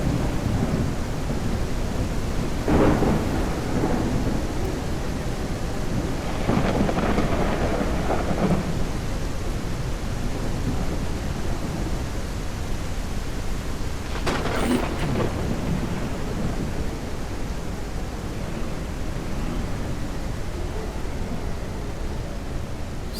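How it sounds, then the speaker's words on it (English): Thunderstorm in the ranch-farming video game Ranch Simulator: steady rain hisses throughout while several thunder rumbles and sharper cracks break through, one especially bright crack near the end, with no talking. "Maybe the storm's almost over."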